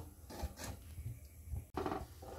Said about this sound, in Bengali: এটাকে এখন খুব ভালো করে নাড়তে হবে।